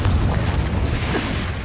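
A Confringo spell blast in Hogwarts Legacy on PS5, a loud, dense booming explosion that fills the whole short moment without letup.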